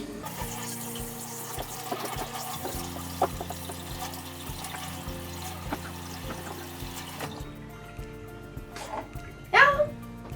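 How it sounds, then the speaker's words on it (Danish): Warm water runs from a tap over smoothie ice moulds, a steady close stream and splash that stops near the end, with a voice briefly heard. "Så skal vi lige putte dem under varmt vand."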